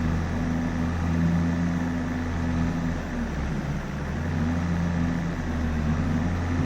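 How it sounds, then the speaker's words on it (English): A tractor engine hums steadily in Farming Simulator 22 on a Central European farm map, a constant low drone with a faint higher whine that stays even throughout, with no talk. "the hum of the tractor"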